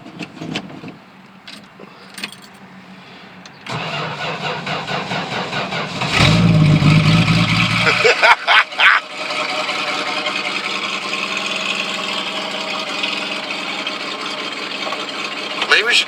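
A 1975 Plymouth Duster's engine cranks and catches with a loud burst, then settles into a steady, loud mechanical running drone that carries on to the end.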